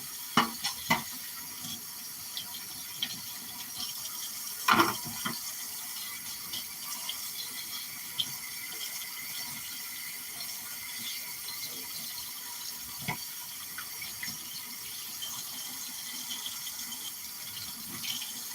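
Tap water runs steadily into a sink while a cutting board is washed, a moderate continuous splash with a few brief clatters and knocks, no voices.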